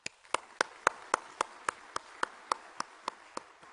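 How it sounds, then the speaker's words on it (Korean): Slow, evenly spaced claps ring out one at a time in a quiet room, about a dozen sharp hits, rather faint, as a church congregation applauds the workers rebuilding an education center. "이 재건을 위해 수고하는 모든 분들을 위해서 함께 한번 박수했으면 좋겠습니다"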